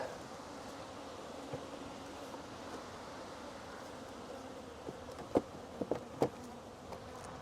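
Honey bees make a steady close buzzing hum at an open hive, continuous and moderately loud, with a few brief clicks and knocks near the end.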